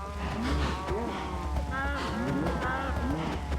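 Cows in a Minecraft survival world moo repeatedly near a pen exit, several overlapping drawn-out calls at close range under a steady low background hum, with someone talking.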